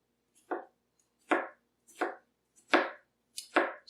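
A Paudin 9-inch chef knife slices cleanly through food on a board in five separate, evenly spaced pull strokes, each a crisp close swipe ending in a soft thud, with quiet pauses between.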